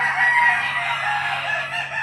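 A rooster crows loudly and close at the Lipa livestock auction market in Batangas, one sustained call filling the whole moment, with steady background hum and no talking.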